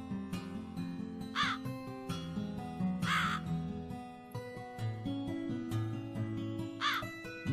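A crow caws repeatedly in the horror adventure game The Cat Lady, harsh calls recurring about every two seconds over a sustained, droning musical backdrop.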